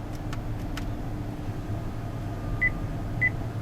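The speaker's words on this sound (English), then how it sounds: "And you hear 2 beeps." Two short electronic beeps, a fraction of a second apart, sound clearly over a low steady hum of background noise.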